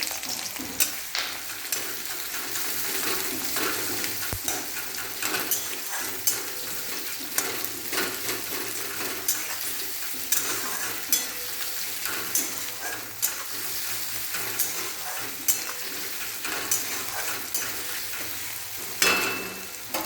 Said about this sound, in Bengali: এবার তেলটা গরম হয়ে এসছে, এর মধ্যে দিয়ে দেবো পেঁয়াজ কুচি